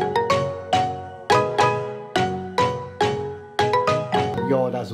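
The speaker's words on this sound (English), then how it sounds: "all together, our keys in our main section sound something like this." Afrobeat keys layer a synth piano with a Serum pluck and soft pads, playing a bouncy rhythmic chord pattern with sharp repeated attacks that decay quickly. The keys are loud, up close and alone, with no voice.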